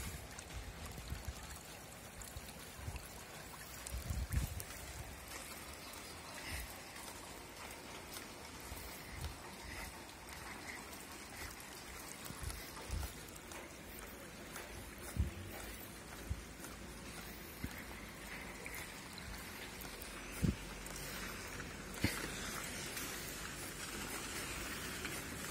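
Rainwater streams along a street in Truskavets after a heavy downpour, a steady, faint rushing flow with occasional splashes and soft knocks throughout.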